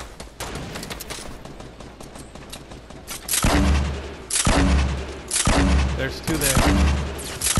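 Fortnite gunfire in rapid bursts, loud and close, with heavy automatic shots rattling over a steady low rumble; a player speaks briefly over the shooting.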